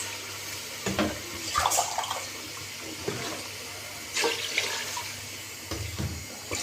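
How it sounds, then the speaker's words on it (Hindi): Water pouring in several bursts from a large glass into a pot of black urad lentils for khichdi, splashing close up with short pauses between pours. "अब इसमें हम ये पानी डाल देंगे 3 बड़े वाले गिलास।"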